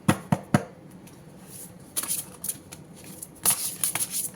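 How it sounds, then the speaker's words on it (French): A deck of oracle cards is shuffled up close: quick crisp riffles and slaps come in bursts, with soft rustling between them. "Alors, on va prendre une carte de ce joli oracle."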